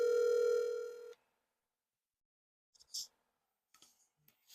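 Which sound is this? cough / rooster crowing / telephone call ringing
telephone call ringing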